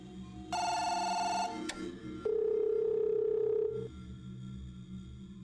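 A telephone rings inside the video game Firework. Bright electronic ring tones sound, then a long steady dial-style tone follows, clear and fairly quiet against a low background hum, with no speech.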